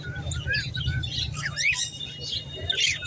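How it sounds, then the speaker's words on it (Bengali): Budgerigars chirping at a bird market, several bright, rapid warbles and tweets overlapping at close range over a low background hum. "বাহ, জেপি বদ্রি আছে, দারুণ।"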